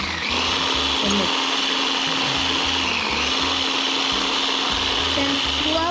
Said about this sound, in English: Sorry if it's really hard to hear because of the blender